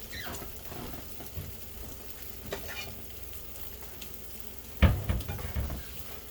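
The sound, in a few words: eggs and cheese frying in a pan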